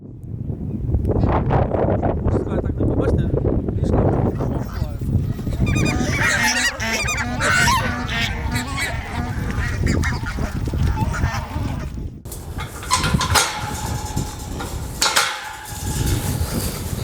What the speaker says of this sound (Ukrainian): Називається куріний гусь.